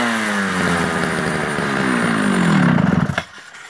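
Vintage Swedish Jonsered 621 chainsaw firing up and running rough with a buzzing, sputtering two-stroke note that rises, then stutters in rapid popping bursts and cuts out abruptly, heard up close.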